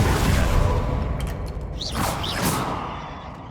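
A Confringo spell blast in the Hogwarts Legacy video game: a fiery whoosh with rising swooshing streaks and dull thuds rumbles over dense, continuous battle noise.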